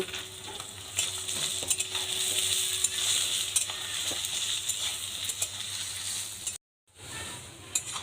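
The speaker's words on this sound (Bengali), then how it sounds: "গ্যাসটাকে হাই ফ্লেমে রেখে পেঁয়াজগুলো আমি ভেজে নেব।" Onions fry on high flame in hot oil in a wok for Kolkata-style chicken biryani, a continuous bright sizzle with occasional stirring scrapes, pausing briefly near the end.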